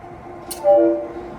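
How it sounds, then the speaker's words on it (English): A 1950 EMD GP7 high-hood diesel locomotive on a railway turntable at a railroad museum, a brief tonal horn-like hum swelling and fading over steady low engine rumble, with a short hiss just before. "This locomotive pulling your train today is the 710. It was built new in 1950 by the Electromotive Division of General Motors as the high hood model GP7"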